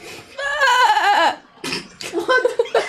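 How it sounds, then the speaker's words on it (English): A goat bleats in a long wavering cry, followed after a short pause by two more shorter quavering bleats, close and loud. "Was that a goat?"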